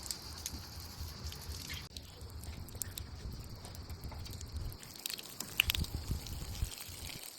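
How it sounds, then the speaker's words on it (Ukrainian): Water balloons being filled with water give a steady close patter and drip of running water, continuing alone without talk. "А зараз продовжуємо набирати, наповнювати кульки водою."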